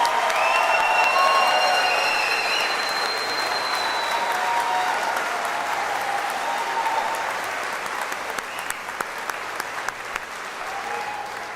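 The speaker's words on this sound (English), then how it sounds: "Let's give one more hearty round of applause to all these distinguished graduates and their families." Sustained applause from a large commencement crowd honoring graduates and their families, a dense, steady wash of clapping with some cheering that thins and tapers toward the end, with faint voices underneath.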